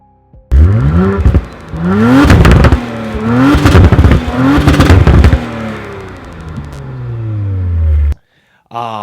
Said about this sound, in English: Before we get going though, let's hear that engine.